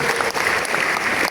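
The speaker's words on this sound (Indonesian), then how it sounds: "Tepuk tangan." Audience applause at a school thanksgiving and farewell ceremony, dense steady clapping from a crowd held at an even level for the whole short stretch, with no voices over it.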